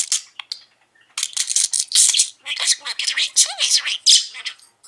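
A pet budgie named Mango chattering nonstop, close and busy high-pitched warbles, chirps and squawks running almost without a break after a brief quiet start.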